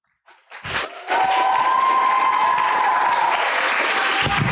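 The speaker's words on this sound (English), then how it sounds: "A round of applause." An audience welcomes a student speaker at a talk event: applause swells quickly from a few claps into a full, loud, steady roar of clapping with faint cheering, then cuts off abruptly.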